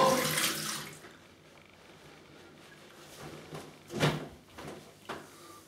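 Icy cold Scottish tap water is splashed over a freshly shaved face: a loud rushing splash at the start, then quieter running water and a few sharp splashes near the end, with no voices.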